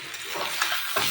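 Spice paste stirred and fried in a pan at home, a steady close sizzle with scraping strokes of the spoon across about a second.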